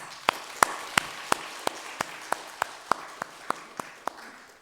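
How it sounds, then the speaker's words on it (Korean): Slow, rhythmic clapping in a church, single crisp claps about three per second standing out over a faint hum of more applause. "하나님께 큰 영광에 박수 올려드리겠습니다"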